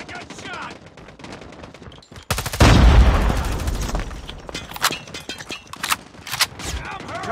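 Rapid bursts of gunfire from the Call of Duty Mobile video game, with a loud heavy volley in the middle followed by sharp scattered shots and explosions, all close and loud.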